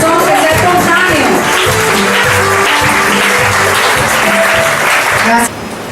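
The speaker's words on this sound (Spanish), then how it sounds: "díganle un fuerte aplauso al Señor en esta noche" Church congregation at an evening worship service breaks into strong sustained applause, dense crowd clapping throughout with voices mixed in, ending abruptly.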